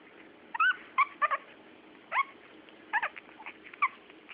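Small Shih Tzu puppies whimper and squeak in short, high-pitched bursts, scattered irregularly with quiet gaps between them, fairly close.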